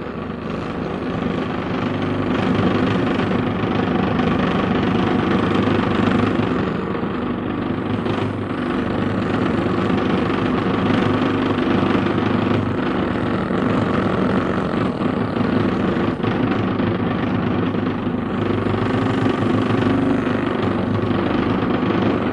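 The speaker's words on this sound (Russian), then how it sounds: "Мотоциклисты повседневно совершенствуют свою боевую выучку на старте военизированного" Military motorcycles roar together at the start of a paramilitary motocross on a rain-soaked track, a dense, continuous engine drone that stays loud and steady throughout with no speech.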